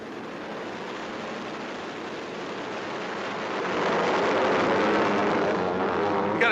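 A police helicopter flies overhead with a broad, loud whooshing rotor and engine roar that grows louder toward the end.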